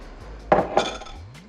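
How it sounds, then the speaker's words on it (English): A spoon stirs milk and sugar inside an Instant Pot inner pot, giving two close, distinct metallic scrapes and clinks against the steel over a quiet background. "Give it a nice stir."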